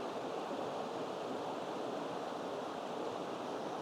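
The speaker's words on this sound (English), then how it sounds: "The rapids down there, a little bit of a pool trickling in" River rapids at Sid's Rapids on the Swan River, where a small pool trickles in, make a steady, broad rushing roar of churning water that holds constant throughout with no voices.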